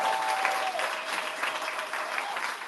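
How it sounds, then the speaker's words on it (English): Audience applause at a live event, a steady dense wash of clapping from a crowd, sustained throughout with no break. "Let's give a round of applause."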